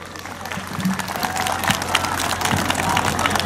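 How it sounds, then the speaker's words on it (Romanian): Audience applause at a village festival in Grumăzești, Romania, clapping that builds from a sparse start into a full, even round with a faint murmur underneath. "Vă rog să aplaudați pe domnul președinte."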